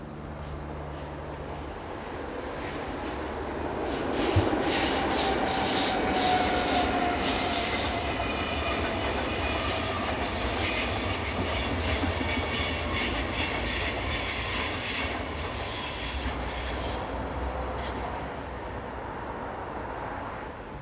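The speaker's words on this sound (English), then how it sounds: "Following along behind is a slightly delayed BLS local train coming off the Utteville branch, with a 10:16 from Luzern." A Swiss BLS local train coming off a branch line rolls into a station, a loud steady rumble of wheels on rail with rhythmic clicking and brief squeals, sustained throughout with no talk.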